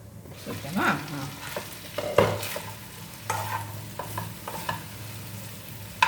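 Brinjal (eggplant) frying in a pan with curry leaves gives a steady low sizzle, with intermittent scraping stirs and a few louder clatters throughout.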